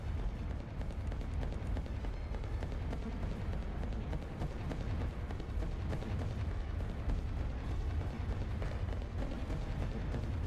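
Massed artillery fire in a Napoleonic-era Rise of Nations battle, a dense continuous rumble of low booms and distant blasts, muffled and steady throughout with no talk.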